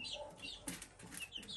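Young chicks in a homemade brooder give faint, high cheeping calls in short bursts, along with soft rustling and a brief flutter of wings.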